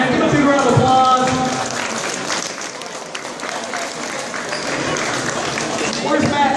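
A crowd at a Storage Hunters auction during a comic con in Wigan bursts into loud, sustained applause and cheering, with voices calling out over the clapping.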